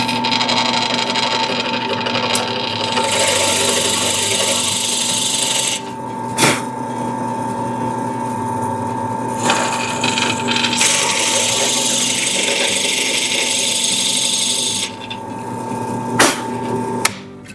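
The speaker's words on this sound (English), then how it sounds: "let's drill into a perfectly good knife" A power drill whines steadily while boring into a steel knife blade, with a grinding rasp, briefly stopping and restarting twice, a few clicks between runs.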